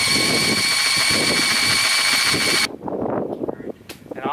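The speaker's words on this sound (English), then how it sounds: "if you use your flywheel 17 millimeter socket on a drill, we'll just get it to build some oil pressure by rotating it counterclockwise for 30 seconds or so" A power drill spins the flywheel of a tired 1986 Honda Z50 engine through a 17 mm socket, turning it counterclockwise; a steady loud whine runs for over two seconds, then cuts off, leaving rumbling handling noise.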